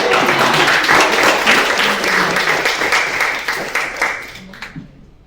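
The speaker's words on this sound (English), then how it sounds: "Someone give an applause, like." Audience at an HR event breaks into applause, a loud, dense patter of clapping that holds steady and then gradually thins and fades toward the end.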